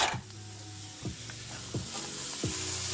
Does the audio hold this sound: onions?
yes